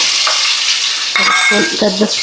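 Ginger garlic paste sizzles and fries in a pot for chicken pulao, a loud continuous crackle with stirring scrapes from a spoon.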